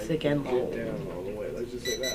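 An automatic timer alarm beeps briefly near the end, under steady conversation from several people talking over it.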